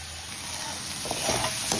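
Soybean chunks sautéing with potatoes in a pan, a continuous sizzle with a few soft stirring scrapes near the end, close and without voices.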